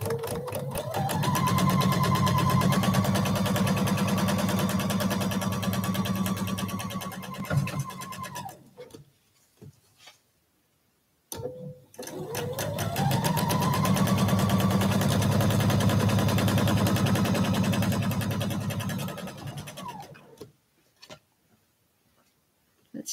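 A sewing machine stitches a quilt block straight along a marked line in two long, steady runs of about eight seconds each, with a short pause between them and faint handling noises in the gaps.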